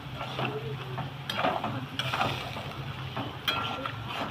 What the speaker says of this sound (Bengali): জলটাকে দিয়ে আর একটু কষিয়ে নিচ্ছি।